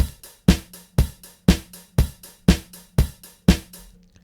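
A phonk drum beat: heavy kicks hit at an even half-second pulse, with crisp hi-hats ticking between them, loud and punchy, ending abruptly.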